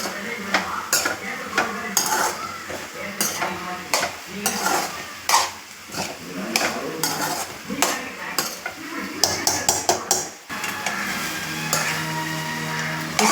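Okra poriyal being stirred in a pan over a low flame, with repeated scraping and clinking of a spatula against metal over a soft sizzle, busy and close throughout, while a voice talks intermittently.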